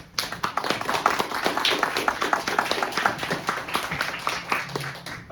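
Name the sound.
audience applause for the panel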